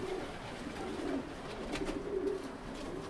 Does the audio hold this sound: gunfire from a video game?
no